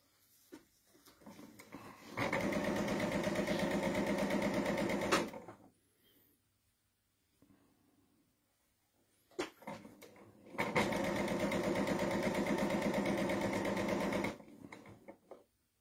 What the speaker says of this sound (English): I'm just sewing the two halves together now with the strip in the middle.